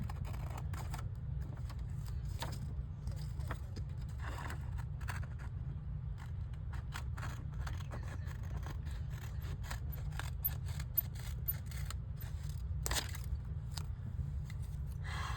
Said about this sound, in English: I'm going to go ahead and cut around it